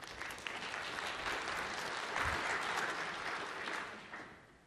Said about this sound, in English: would you mind giving an applause for Konstantin, please?